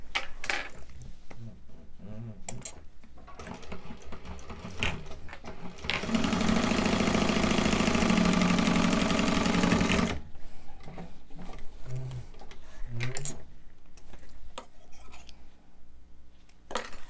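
A sewing machine top stitches a fabric wristlet in a steady loud burst of about four seconds, with quieter handling clicks and light scissor-like snips before and after, and a voice briefly heard.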